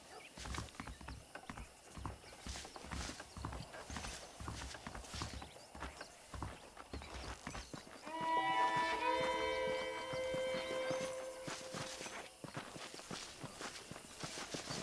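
Horse hooves clip-clopping at a steady riding pace in the Red Dead Redemption western game, moderately close, with faint background music swelling partway through and no talk.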